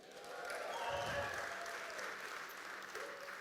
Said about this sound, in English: Can I get a cheer for that?